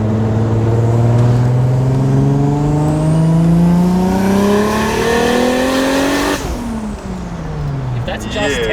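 A 1JZ engine with a single turbo conversion revs hard on a test drive, pitch climbing steadily for several seconds, then a sharp lift-off and a falling note as the car passes close and loud.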